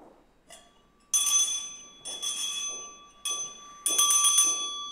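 At a Reykjavík city council meeting, the chair rings a hand bell. Four clear, bright rings come about a second apart and each fades slowly, with no talk over them.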